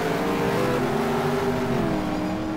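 Race cars run side by side at Hidden Valley Raceway, their engines roaring steadily together with layered droning tones that shift slightly in pitch, loud and continuous with no voices.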